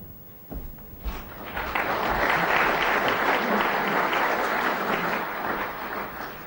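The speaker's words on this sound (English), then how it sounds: "applause" Snooker crowd at a 1996 World Championship match bursts into sustained applause after a thud near the start, the clapping swelling to a steady, full roar and holding loudly to the end.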